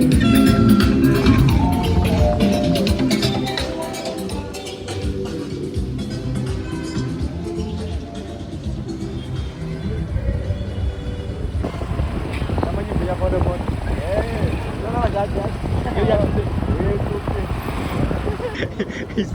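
Boda boda motorcycle taxi ride in Uganda, a steady engine drone with rushing wind and road noise running throughout, talk and music-like tones layered over it.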